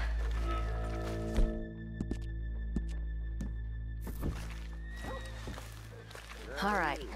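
Horse in the Red Dead Redemption 2 video game giving a whinny and a few hoof clops, heard faintly under game ambience and talk.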